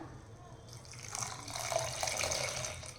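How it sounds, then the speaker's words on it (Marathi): Hot water poured from a pot into misal curry, a soft watery splash and gurgle that begins after a quiet moment and keeps going, close but low in level. "इथे मी एक तांब्या भरून गरम पाणी केलेलं होतं ते इथे टाकून घेऊया"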